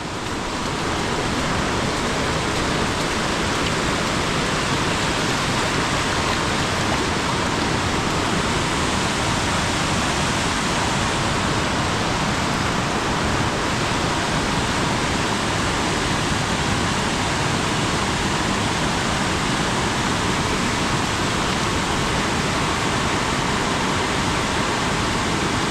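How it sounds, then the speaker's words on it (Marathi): A small river in flood in rural Khed, Ratnagiri, Konkan, during heavy monsoon rain, roars with a dense, steady rush of water that fills the whole clip loudly and continuously, with no voices heard. "जोरात पाणी आलं आहे."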